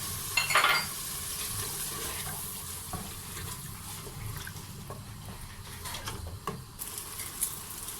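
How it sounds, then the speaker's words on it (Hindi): Yogurt fries in oil in a pan with a steady low sizzle, punctuated by a few sharp stirring clatters and scrapes, close and fairly quiet with no talking. "जो हमने दही डाला था वो भी तकरीबन भुन गया।"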